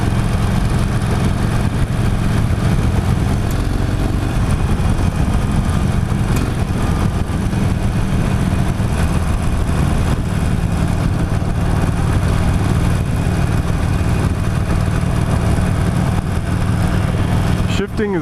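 A 2016 Harley-Davidson Forty-Eight cruiser motorcycle on a test ride, its engine a steady, loud, close rumble with constant wind noise and no clear breaks.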